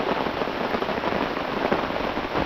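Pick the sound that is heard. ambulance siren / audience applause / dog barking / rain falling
rain falling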